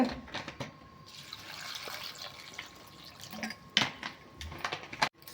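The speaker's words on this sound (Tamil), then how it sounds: "ஐஸ் தண்ணி ஊற்றிக்கோங்க." Ice water poured into a cup while making a crispy spring onion snack, a brief watery trickle with clinks of ice, close and alone with no talk.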